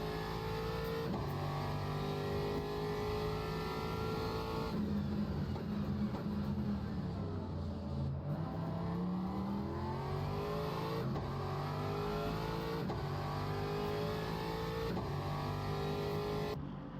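A race car engine revs hard at Spa, its pitch rising and falling as the gearbox downshifts into the chicane and then pulls back up, loud and steady throughout with no voices.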